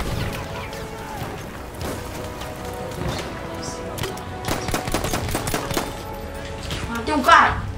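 Gunfire in the video game Battlefield 1 beta, rapid bursts of shots and crackling volleys with scattered impacts, fairly loud and continuous through the clip, with a player talking over it.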